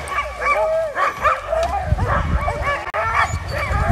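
Sled dogs in Fairbanks, Alaska, eager before a dog sled run, a chorus of excited barks, yips, whines and howls overlapping continuously at close range, loud and busy throughout.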